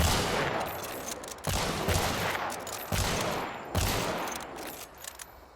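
A Vetterli Deadeye rifle in Hunt: Showdown fires four loud, sharp shots at roughly even intervals, each one followed by a long, booming echo that fades before the next shot.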